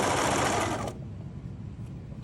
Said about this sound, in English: I'm gonna sew this together